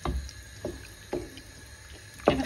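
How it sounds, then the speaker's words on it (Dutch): A spoon stirring leek and potato soup in a cooking pot makes a few soft scraping, sloshing strokes spaced roughly half a second apart, close by and fairly quiet. "Nou, dan gaan we even roeren."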